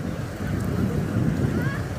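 Floodwater after record heavy rain rushes along in a steady, close, low roar, water that has already poured into a school, with wind buffeting the microphone.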